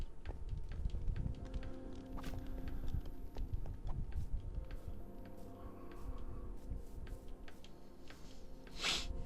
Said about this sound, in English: Zombie horses. I thought they were hostile again, but they're not.